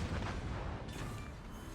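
Battleship guns firing a barrage in the naval video game World of Warships: a sustained, heavy rolling boom that fills the whole moment, loud and close with no talk.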